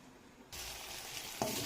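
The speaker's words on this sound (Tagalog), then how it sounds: "hanggang sa ma-reduce ang sauce at lumambot na itong beef." Beef steak simmering in a reducing soy sauce for bistek Tagalog, a steady hiss of sizzling bubbling that jumps louder halfway through and carries a brief clatter near the end, with no talk.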